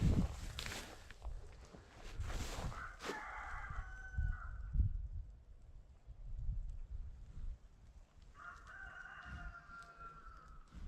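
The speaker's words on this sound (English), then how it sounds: "Hear that dumb rooster." A rooster on a bison ranch crows twice, first near the start and again near the end, each a long drawn-out call over steady outdoor noise and crunching footsteps.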